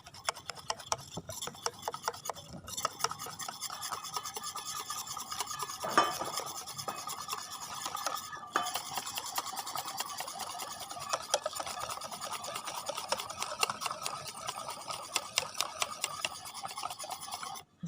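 Steady scraping and rubbing as a mixture is stirred around a pan up to its edges, for Indonesian cakes such as lemper, a continuous close rasping rhythm with occasional utensil knocks against the pan.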